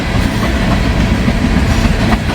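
A train rolls past close by in humid, stormy Kentucky–Ohio weather, a loud, dense rumble with a rhythmic clickety-clack of wheels over rail joints, steady throughout with no voices.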